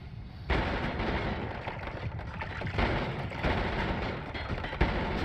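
Mortar fire and explosions in the game Noita, a loud rumbling barrage with repeated deep booms and bursts landing over a dense, roaring noise bed.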